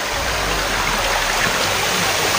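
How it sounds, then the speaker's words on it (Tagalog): Clean mountain stream flowing down from a summit, a loud, steady rushing of water that fills the whole stretch without pause, close by and with no voices over it. "Yung sapa na ito."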